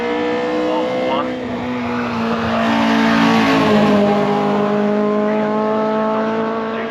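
Lotus Cortina Mark 1 race car at the Shelsley Walsh hillclimb accelerating hard through the gears, a loud, close, rising engine note that swells and fades as it passes, with a commentator talking over it.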